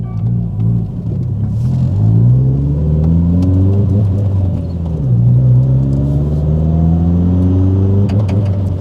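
A Subaru WRX STI pulls hard through first to fourth gear, its loud engine note rising in pitch with each gear, dropping at every shift, then climbing again without a break.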